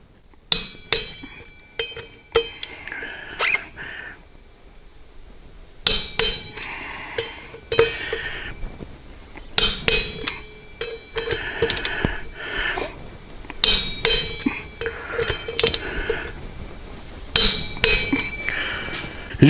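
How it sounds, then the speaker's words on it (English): A torque wrench tightens the bolts on a Sinister wheel of a Harley-Davidson motorcycle, working around in a star pattern, giving repeated sharp metallic clicks and clinks in uneven bursts with short pauses between, close and fairly loud. "we'll torque it down in a star pattern again"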